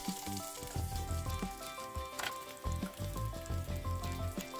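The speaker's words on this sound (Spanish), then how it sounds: "Retiramos todo el asado y ahí mismo vamos a colocar los dientes de ajo." Chopped garlic cloves sizzle in a pan just emptied of roasted meat while cooking locro, a soft, steady frying hiss running alone beneath quiet background music.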